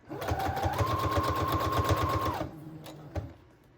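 A domestic sewing machine runs steadily for about two seconds, stitching over trims and lace on a patchwork junk journal page with a fast, even needle rhythm. It then stops, followed by a couple of faint clicks and handling sounds.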